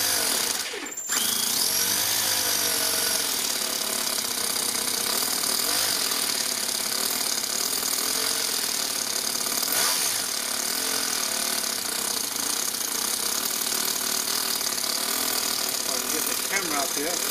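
A small engine runs steadily after starting, rough and rich, a loud continuous mechanical rattle and drone held close without letup.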